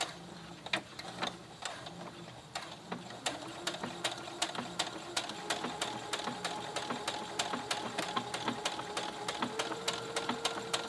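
A sewing machine stitches a buttonhole on fabric for a jogger skirt, a steady mechanical whir with rapid, regular needle ticks that continue for about eleven seconds with no talking.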